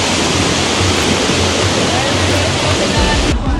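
A river rushes down in a loud, steady broadband roar of churning water that fills the whole stretch, with a faint voice barely showing near the end.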